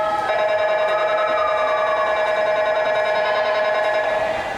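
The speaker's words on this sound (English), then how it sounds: "As that siren lets us know, Kim Jogas is on her 19th lap." A steady electronic siren tone at a girls' high school swim meet, sounding continuously and loudly for several seconds to mark a swimmer's lap, with no talk over it.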